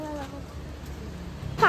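Heavy monsoon rain pours down in Virar, a steady close hiss of drops on surfaces running throughout, with voices talking over the start and a short sharp sound at the end.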